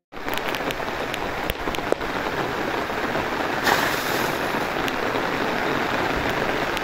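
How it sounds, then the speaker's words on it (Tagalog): Heavy rain pours steadily at a foggy campsite in Cavite, a dense continuous hiss of drops striking surfaces, loud and close for the whole stretch with no voices. "Ang lakas ng ulan."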